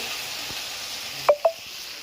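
Potatoes frying in a pan give a steady soft sizzle, broken by two short sharp clinks of a utensil near the end.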